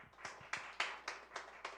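Faint, sparse clapping from a small audience honours a lecturer after a Korean academy talk on the Donghak Peasant Revolution, about seven distinct claps in an uneven rhythm, heard from a distance.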